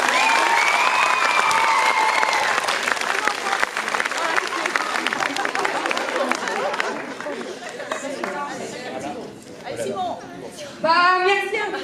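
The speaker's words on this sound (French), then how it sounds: "Applaudissez bien fort Monsieur Nico" Loud audience applause and cheering for a teacher at the end of a sixth-grade school play, sustained clapping with crowd chatter that thins out, then someone speaks near the end.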